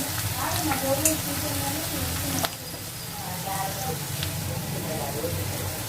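Sliced bitter gourd rounds dropped into hot oil with fried onions, giving a loud, steady close sizzle, with a brief clatter partway through as the pieces go in.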